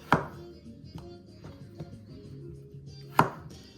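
Knife slices through mushrooms onto a cutting board, a few sharp thunks spaced apart with quieter cuts between, close and clear with no talk.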